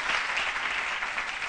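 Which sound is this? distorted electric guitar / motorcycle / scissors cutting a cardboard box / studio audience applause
studio audience applause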